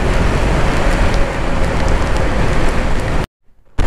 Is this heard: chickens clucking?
no